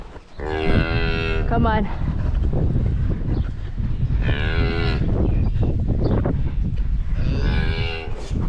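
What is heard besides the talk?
cattle mooing, cow and calf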